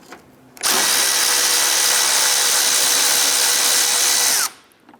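A power tool spins out the upper 10mm bolt on a 2011-2018 Ram 1500 windshield washer reservoir in one loud, continuous whir of about four seconds. It starts and stops abruptly against a quiet background.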